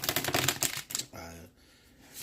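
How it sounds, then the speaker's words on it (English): Tarot cards are shuffled by hand in a quick run of crisp, papery riffling clicks, then fade into a softer, quieter shuffle near the end. "while I go ahead and shuffle your cards and get everything ready for you today"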